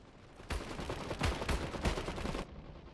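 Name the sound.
heavy machine gun firing in video game Iron Harvest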